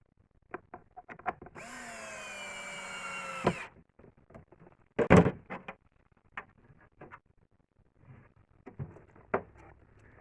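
A power drill driving a screw into wood for a couple of seconds without pre-drilling, its whine rising in pitch, followed by scattered knocks, clicks and handling sounds at close range.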